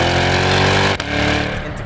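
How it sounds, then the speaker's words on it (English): A 2021 Chevrolet C8 Corvette Convertible's exhaust roars loud and close, a dense sustained engine tone that drops briefly as the throttle lifts, then surges again. "And let's hear this exhaust."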